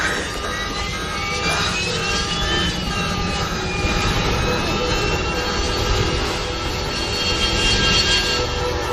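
An airplane's engine roars steadily in flight, a loud, unbroken drone with high whining tones filling the cabin, while voices speak faintly underneath.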